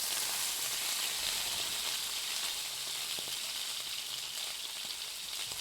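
A steak sears in a hot pan, giving a dense, steady sizzle that runs unbroken from start to finish with no talking over it.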